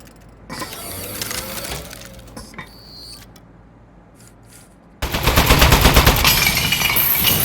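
Turret gunfire in the game Aperture Desk Job: a quiet mechanical whirring and clicking stretch, then a loud, sustained burst of rapid automatic fire in the last couple of seconds.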